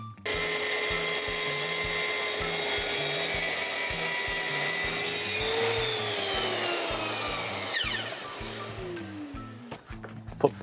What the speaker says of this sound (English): So I'll have to put a temporary plug there after I cut it with the track saw.